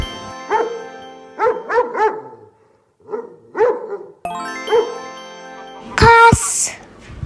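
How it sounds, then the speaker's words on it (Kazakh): A domestic dog barks close by in several short bursts of two or three barks, with brief pauses between them, then ends on a sharper, louder yelp. "Ит."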